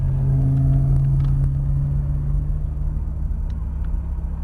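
An Audi R8 V10 Convertible drives with a steady low engine drone from inside the car. The tone eases slightly over a few seconds, with faint clicks and rattles.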